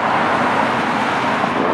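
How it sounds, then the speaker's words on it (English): Road traffic passes at some distance from a garden with a kiddie-pool bog, giving a steady, loud broadband roar with no talking over it. "I'll walk over after this traffic passes, because it's kind of noisy even this far back from the road."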